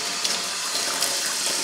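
A reverse-osmosis water machine fills a single bottle on a timer, with a steady, hissing stream of water running continuously at close range and no voices.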